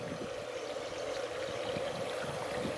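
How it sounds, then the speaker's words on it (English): Water runs steadily from a broken irrigation line outdoors, a continuous faint trickling and streaming rush with no talking. "this leads me to believe that he busted the irrigation line"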